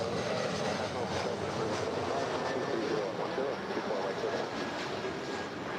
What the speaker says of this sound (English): This is Alaska Horizon Flight 2126 coming in from Medford. It's a 4-year-old Embraer E175 LR.